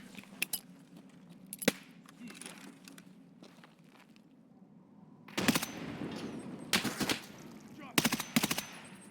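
Machine gun fire in a PvE raid on the Labs map of a shooter video game: a few isolated shots early, then several loud, dense bursts of automatic fire in the latter half, over a low background hum.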